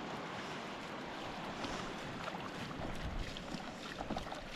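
Large ocean waves surge and splash against a small boat, a continuous rough wash of water with wind, fairly close and moderately loud.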